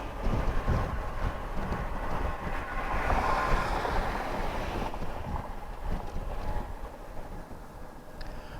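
A Honda Goldwing GL1500 motorcycle underway: a steady rushing road and wind roar with engine drone, moderately loud and continuous, with no voices.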